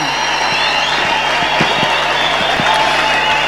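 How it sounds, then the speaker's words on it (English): Steady applause from a crowd at a memorial celebration for Archbishop Ezekiel Guti at the FIFMI National Headquarters in South Africa, sustained dense clapping with a few louder individual claps, moderately loud throughout. "May we applaud as she is coming."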